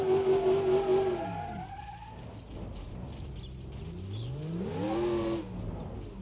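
Supercharged pickup truck in the BeamNG Drive game, engine revving hard with rising and falling whine, dipping in the middle before a second sharp acceleration sweep, loud and close with no talking.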